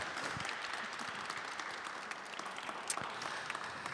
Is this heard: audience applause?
yes